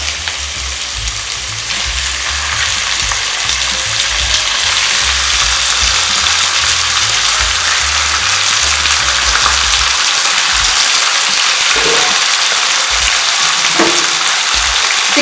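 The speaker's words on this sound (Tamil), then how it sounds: "இப்போ இந்த இதில் முதல்ல நம்ம சிக்கனை போட்டு கொஞ்சம் வதக்கிக்கலாம்." Chicken pieces sizzle steadily and loudly in a hot pan, with continuous frying hiss and occasional scraping stir sounds, no talking.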